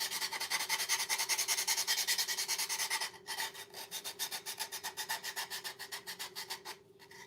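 An electric sander grinds across cardboard at a primitive snowman craft event, a steady rasping buzz with a quick pulsing rhythm that runs for about three seconds, breaks briefly, then resumes slightly softer and choppier until the end.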